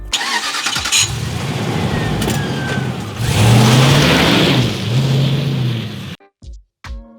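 A car engine starts with a brief crank, then settles into a loud idle and revs rising and falling as the car pulls away, ending abruptly in a few short knocks.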